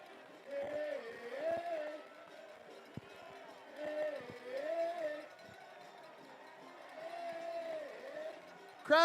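A baseball crowd at a Portland Pickles game against the Gresham GreyWolves sings and cheers along to a song in swelling waves, with a distant music and crowd roar that rises and falls.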